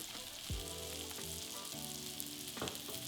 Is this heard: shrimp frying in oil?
yes